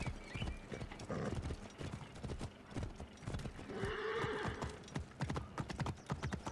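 Rapid, rhythmic hoofbeats of a galloping horse clatter continuously in the video game Assassin's Creed Origins, with a brief whinny in the middle.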